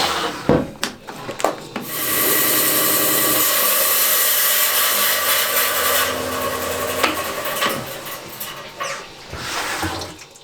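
A rock saw grinds steadily through a Moroccan Al Hama agate, a loud, continuous rasping drone lasting several seconds after a few short clattering knocks, with no talk.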